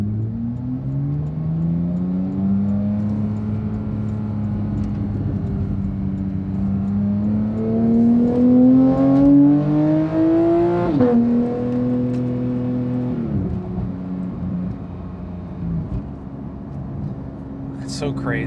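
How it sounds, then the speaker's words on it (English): Porsche GT3 with a loud exhaust cruising through a neighborhood, its steady engine drone rising in pitch through a gear then dropping, continuous and close throughout with a voice talking over it. "It's so crazy how loud this exhaust is, man."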